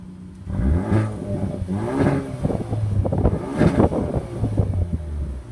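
A Hyundai i30 N Performance turbocharged engine revs up in several surging bursts, the roar rising and falling, with wind buffeting the microphone throughout.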